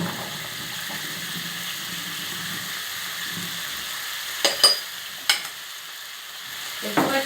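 Zucchini and chicken sizzle and fry in olive oil in a pan, a steady soft crackle with a few sharper clatters of stirring toward the end.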